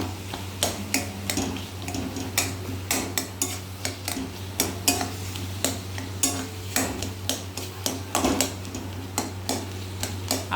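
Boiled mangoes are stirred and mashed in a pot, a close, rhythmic run of sharp spoon taps and scrapes against metal over a steady low hum.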